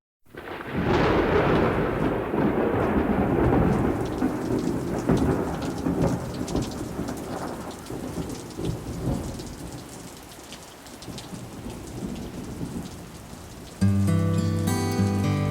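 A heavy thunderstorm pours down, dense rain hissing on surfaces with deep rolling thunder swelling early on, steady and enveloping, before music comes in near the end.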